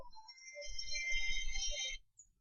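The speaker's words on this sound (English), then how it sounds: "Sorry for my cell phone again" A cell phone rings close by for about two seconds, a steady electronic ringtone of stacked bright tones over a low hum, then cuts off.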